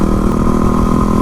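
A Yamaha WR250R supermoto motorcycle hums close and steady on a California ride, with no talking.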